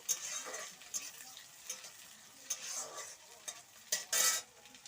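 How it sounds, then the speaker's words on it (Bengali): Nuts and raisins fry lightly in a pan for carrot halwa, a soft faint sizzle with intermittent scraping strokes of a spoon and one brief sharper clink near the end. "আমি কিশমিশগুলো দিয়ে একটু হালকা ভেজে নেব বাদামগুলো দিয়ে দিই"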